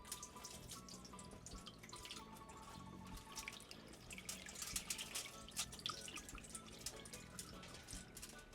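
Rice being washed in water at a kitchen sink in Paramin, Trinidad, with faint trickling, splashing and dripping, low in level and irregular, with no speech.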